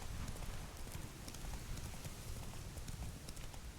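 A horse's hooves clop rapidly in a galloping rhythm in the video game Witcher 3: Wild Hunt, a steady dense patter over a soft, noisy background with no talking.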